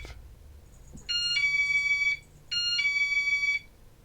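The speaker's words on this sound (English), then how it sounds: "The alarm you hear is the alarm on my mailbox to tell me somebody's in my mailbox." A mailbox alarm sounds in two loud electronic beeping bursts, each about a second long with a brief gap between, close and clear over a quiet background.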